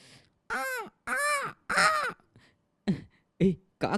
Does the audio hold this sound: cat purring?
no